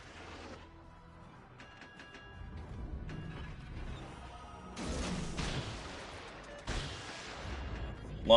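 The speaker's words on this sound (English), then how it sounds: "Launching some torpedoes over there." Torpedoes launching in a naval video game: a series of mechanical clanks and ratcheting clicks, then two sharp, loud bursts of broadband launch noise, with sparse faint background game sounds.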